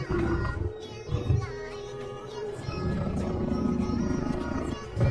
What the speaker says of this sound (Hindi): पहाड़ों में एक बाघ की गगनभेदी दहाड़ सुनाई दे रही थी।